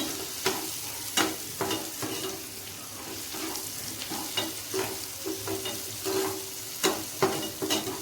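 Onion and garlic frying in a pan for bitter gourd fry: a continuous close sizzle with repeated scraping and knocking as a spoon stirs, the strokes coming every second or so.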